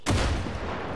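A sudden loud burst of gunfire in the open-world shooter Far Cry 6, with a sharp broadband crack followed by a dense, rumbling sustain that holds for the rest of the moment, heard alone without talk.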